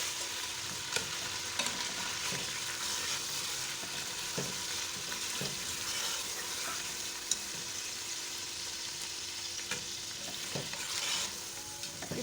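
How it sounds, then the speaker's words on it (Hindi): Beef frying with ginger and garlic for a jalfrezi: a steady, fairly quiet hiss of sizzling oil with occasional light stirring clicks, heard close and alone. "गोश्त इसलिए डालते हैं कि इसको मैंने फ्राई करना है।"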